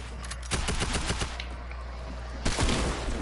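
Rapid automatic gunfire in a video game: a burst of quick repeated shots, a brief lull with faint background, then another loud burst, close and prominent with no talking.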